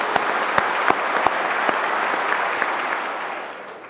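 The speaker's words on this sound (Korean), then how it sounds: "하루하루 새로운 삶을 개척하고 계신 3만 4천 명의 북한 이탈 주민 여러분께 경의와" Steady applause from an audience at a North Korean defectors' day ceremony, dense continuous clapping with a few sharper claps standing out, fading slightly toward the end.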